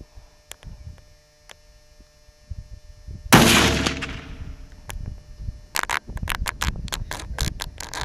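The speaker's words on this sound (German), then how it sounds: "Ich schieße jetzt" A single loud rifle shot rings out outdoors in Africa, followed by a long decaying echo, then a rapid run of sharp clicks and knocks close by.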